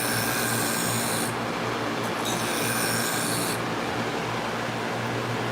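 A Mayo-Hegar needle holder is sharpened on a powered abrasive wheel. A constant hissing grind is heard close up, with a brighter rasping pass briefly layered on top in the middle.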